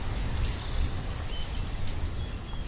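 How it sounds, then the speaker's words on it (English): Steady rain in the Banished city-building game hisses as a dense, even wash, with faint bird chirps in the background. "It's been raining quite a bit."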